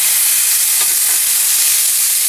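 Bacon-wrapped filet mignon with a black truffle crust searing in a hot pan, a steady, loud frying sizzle and hiss that holds at an even level throughout, with no voices.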